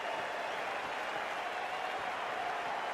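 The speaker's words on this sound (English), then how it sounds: "The crowd is electric right now." Cricket crowd applauding in the video game Cricket 24, a dense continuous wash of clapping and cheering that holds at an even level throughout.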